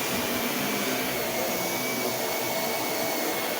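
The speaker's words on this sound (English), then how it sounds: "Probably because I'm running 3 vacuums over it." Three vacuum cleaners run together over a floor, a loud continuous motor whine and airflow hiss holding steady throughout with no pauses and no talk.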